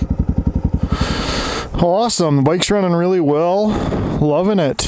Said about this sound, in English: Awesome, the bike's running really well.